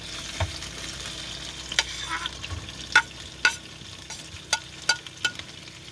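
Onions fry with sausages in a pan on a camping stove by a pond, a quiet continuous sizzle punctuated by several sharp, close clicks and scrapes of a utensil stirring against the pan, with no one speaking.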